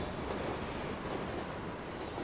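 A train in the Transport Fever 2 video game rolls along the tracks with a steady rumbling rush and faint wheel clatter, continuous and fairly loud, with no talking.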